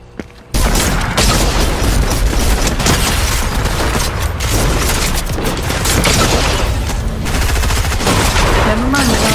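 Nonstop heavy gunfire from a Fortnite Creative aquarium gun game map, a dense, loud barrage of overlapping shots and booms rattling on for several seconds, with faint voices mixed underneath.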